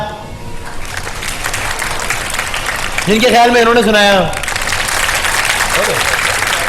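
A studio audience at the Shan e Iftar Ramadan show applauds in a steady burst of many hands, with someone talking over the clapping.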